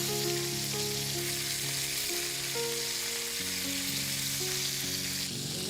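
Chicken sticks frying in a pan in a home kitchen, a steady dense sizzle filling the whole clip at close range, with no talking.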